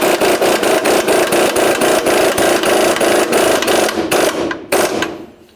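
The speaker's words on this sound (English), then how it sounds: "Now let's go ahead and tighten up that lower ball joint nut." A lower ball joint nut on a Ford Expedition's front lower control arm is tightened with an impact wrench, a loud, close, rapid hammering rattle that runs steadily and then stops abruptly.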